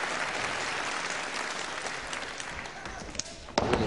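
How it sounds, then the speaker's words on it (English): Crowd at a professional wrestling bout applauds, a steady rain of clapping at moderate distance that swells, with sharp thuds near the end as the wrestlers hit the mat. "And get the applause for that."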